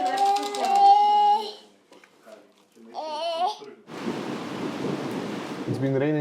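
Steady, dense rain hiss begins partway through and carries on without a break to the end, loud and close. It follows a stretch of tonal, voice-like sounds and a brief quiet gap.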